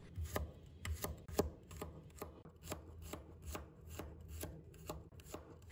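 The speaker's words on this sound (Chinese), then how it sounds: "我们再准备1把大蒜，把它切成片" A knife slices garlic cloves on a cutting board in a steady series of about a dozen crisp, evenly spaced chops, heard close but quietly, with no talking.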